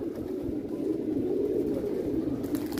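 Pigeons in a loft, some of them thumbles, coo in a continuous low murmur, several birds overlapping close by with no talk over them.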